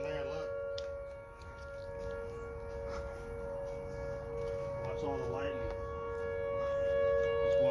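A Siren Head creature in a video game lets out a sustained, droning siren wail that holds steady with slight wavering, under a player's excited voice.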